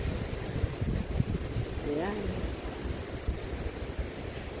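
Strong post-typhoon wind roars steadily around storm-damaged greenhouses, buffeting the microphone throughout, while someone speaks briefly midway.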